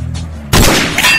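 A WE M14 gas-powered replica rifle fires a single loud, sharp shot that breaks abruptly out of near quiet and leaves a short ringing tail.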